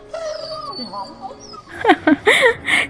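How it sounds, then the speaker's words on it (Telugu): A dog whimpers in high, wavering whines, then breaks into a few sharp yips close by. "కుక్క, చిత్తకార్తి కుక్క."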